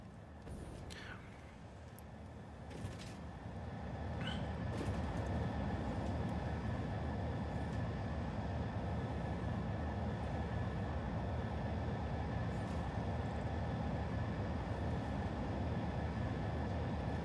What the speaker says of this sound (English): My train's still going, right?